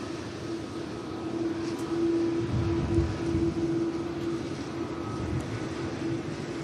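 A Boeing 787 Dreamliner rumbles at Manchester Airport, a steady low engine roar with a constant hum, heard at moderate distance without talk.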